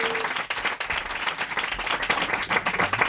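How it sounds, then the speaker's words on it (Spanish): Studio audience applause on a Spanish comedy talk show, a dense continuous wash of many hands clapping at full volume, steady and close throughout. "¡un fuerte aplauso para David Broncano!"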